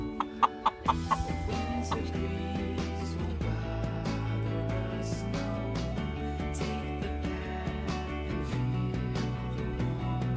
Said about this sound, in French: Voici le coq qui est venu s'abriter dans le poulailler.